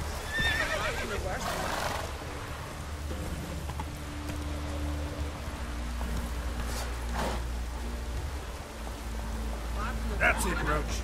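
Horse neighing in The Witcher 3 game, a loud whinny near the start over steady rain and hoof clip-clop, with a game soundtrack and occasional voices underneath.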